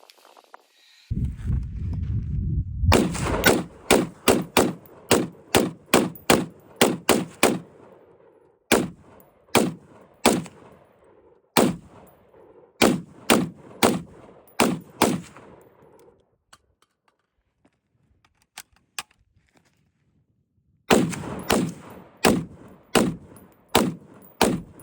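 A Leader Dynamics Mk 5 firing at close range: sharp, loud shots, some in quick strings and some spaced apart, with a pause in the middle and another rapid volley at the end.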